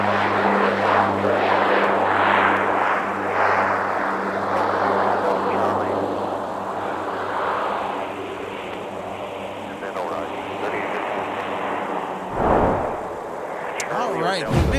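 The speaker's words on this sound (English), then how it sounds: "Bemidji Aviation is here. The Swearingen Fairchild Metroliner." A Swearingen Fairchild Metroliner turboprop at MSP Airport on a winter day runs with a steady, loud propeller-engine drone and a low tonal hum. Broadband roar swells and fades across the clip, with a brief drop near the end.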